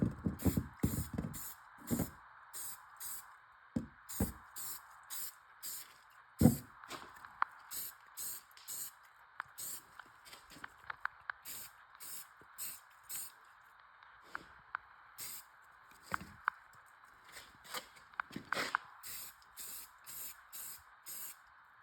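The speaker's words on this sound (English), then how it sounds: "you just want to start off with a nice base coat and try to get everywhere you can without flipping your setup over and over" A spray can hisses in repeated short bursts while a base coat goes onto a rifle, with quiet handling and shuffling noises between the passes.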